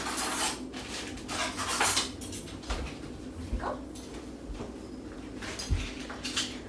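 Fork and spoon picked up in a kitchen, scattered metallic clinks and clatters over a steady background hum, with no talking.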